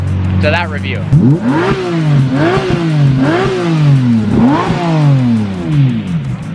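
A 2006 Lamborghini Murcielago Roadster V12 engine revs up and drops back in four or five rising and falling sweeps, loud and close, with a voice talking briefly at the start.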